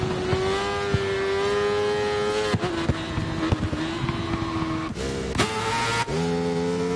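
Ducati racing motorcycles lapping the Kyalami track during a pre-season test, a loud sustained engine whine with gear shifts and dips as bikes pass close by.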